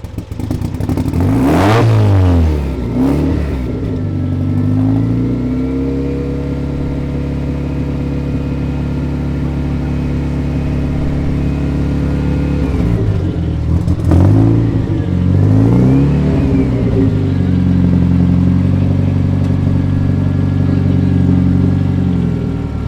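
A 1967 Datsun 1600 roadster with a turbocharged engine revs hard and loud through its exhaust, rising and falling in two big throttle blips with steady droning idle between, close and continuous.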